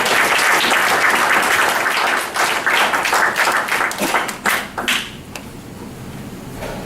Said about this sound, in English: Let us give them a big round of applause.